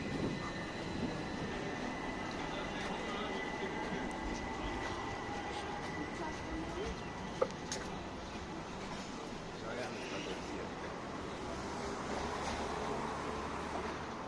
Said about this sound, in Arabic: هاي القطار اخواتي